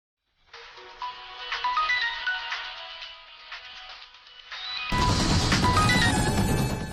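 A phone ringtone plays a bright repeating melody, then turns louder and harsher partway through; no voices.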